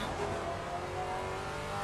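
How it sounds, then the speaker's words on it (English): GT4 race car in Assetto Corsa Competizione roaring on track, dense continuous engine and tire noise at low level, with downshifts blending into the steady racing din. "Sounds like some monster in a cave when it downshifts."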